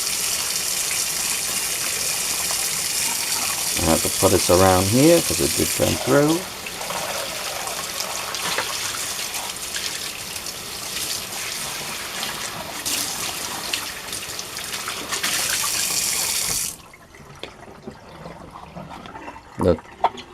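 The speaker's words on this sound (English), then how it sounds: "Put a little water in there." Tap water runs into a sink during dishwashing with homemade liquid dish soap. A loud, steady gush lasts about seventeen seconds, then cuts off abruptly, and a person talks over the flow.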